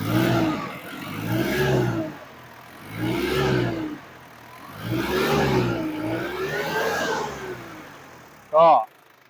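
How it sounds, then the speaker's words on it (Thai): A Ford Ranger 2.5 XLT 4x4 pickup diesel engine revved in three or four repeated bursts, rising and falling, close by, ending with a short sharp squeak. "ก็เดี๋ยวลองเล่นเครื่องให้ฟังดีกว ่า"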